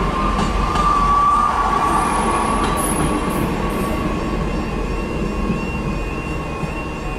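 A train rumbles past steadily and loudly, its wheels grinding with thin high squeals that fade in and out over the heavy rolling noise.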